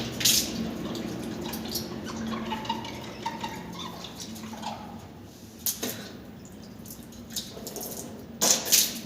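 Water splashing and sloshing in the mouth during wudu rinsing, with soft intermittent splashes and drips, fairly quiet and close, a few sharper bursts near the end.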